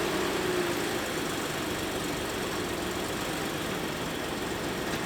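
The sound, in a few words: Ford Explorer Limited engine idling after starting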